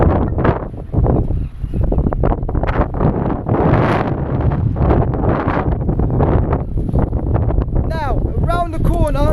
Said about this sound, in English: You may hear a bit of wind noise. That's because I'm right down by the docks.